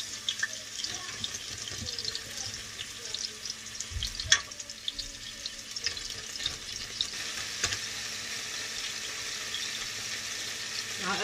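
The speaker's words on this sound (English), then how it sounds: "You want to lay them sideways so they can get some grill marks." Lamb chops are laid sideways on a hot grill and give a soft, steady sizzle and crackle. Faint thumps and handling noises sit under it, and a voice speaks quietly in the background.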